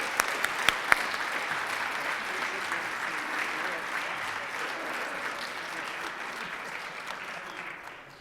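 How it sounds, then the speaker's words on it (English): A meeting audience gives a steady round of applause for a featured guest, dense and even throughout with a few sharp claps near the start, then tapering slightly at the end. "let's give Jon Moeller a big round of applause"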